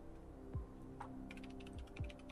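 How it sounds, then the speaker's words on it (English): A computer keyboard is typed on while configuring a network, a few quiet, scattered key clicks spaced out over a couple of seconds in an otherwise still room. "I'm typing the name"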